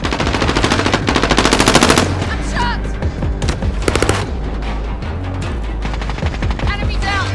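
Rapid SMG gunfire in a video game, with long dense automatic bursts and shorter strings of shots over game sound effects, loud and close, while a voice speaks briefly.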